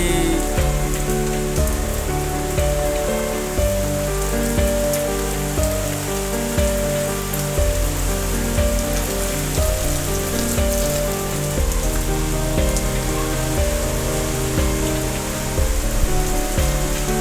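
Heavy rain pours steadily onto a surface, a dense, loud, even patter with individual drops splashing throughout and no voices.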